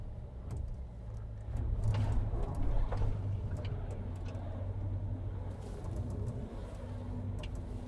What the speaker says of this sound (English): So I can hear a wheel spinning there